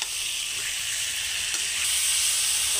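Fish curry with chopped tomatoes sizzles steadily in a pan as it is stirred, a continuous close, bright hiss of frying with no talk.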